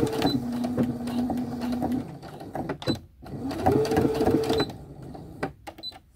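A sewing machine runs in two bursts of steady stitching on a shirt, each a couple of seconds long, with pauses and handling noises between them.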